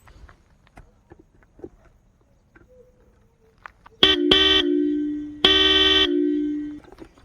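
A loud vehicle horn blasts twice, first a short double toot then a longer sustained honk, after quiet clicking and handling noises.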